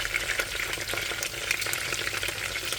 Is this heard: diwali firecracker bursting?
no